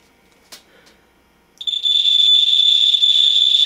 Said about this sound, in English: But boy, this beep is loud.